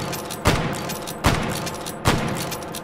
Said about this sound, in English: now that we've got those lever action control tweaks from last week, it is a bit easier